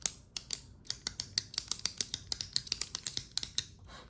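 Pilot Frixion retractable gel pen clicked over and over in quick, irregular bursts, each sharp click close and crisp against a quiet background, with no talking.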